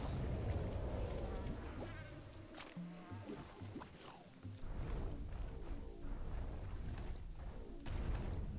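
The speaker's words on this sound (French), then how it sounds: "Allez, les abeilles." A dense swarm of bees buzzes steadily and close up in the Scrabania area of the platform game Oddworld New'n'Tasty, a continuous droning hum with faint background noise mixed in.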